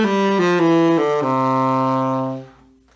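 A short phrase of swung jazz eighth notes in a long-short triplet feel, played on a sustained pitched instrument, a few quick notes settling onto a held tone that fades out.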